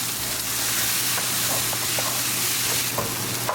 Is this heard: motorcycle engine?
no